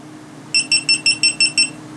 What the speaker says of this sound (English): You'll hear a series of beeps indicating that the camera has powered off.